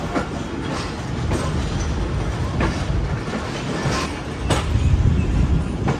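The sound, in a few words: train arriving at Kanpur railway station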